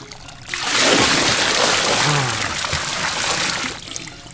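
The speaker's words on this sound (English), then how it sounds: "Water, hot water." Hot water runs from a tap in a steady gush lasting about three seconds, starting and stopping cleanly, close and fairly loud.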